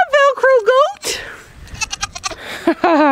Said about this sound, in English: Hi, Velcro goat.